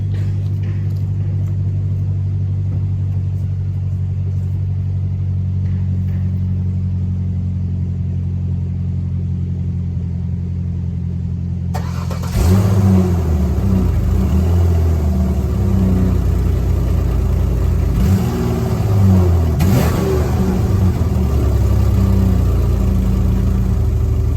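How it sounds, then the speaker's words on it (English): A Mazda Tribute's engine with big exhaust leaks idles with a low rumble, then revs up loudly several times, the exhaust giving a rough, blatting rasp with each burst. "we got some big exhaust leaks"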